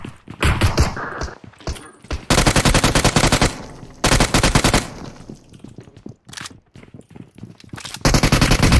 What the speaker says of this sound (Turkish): Oğlum biri sıkıyor lan bana.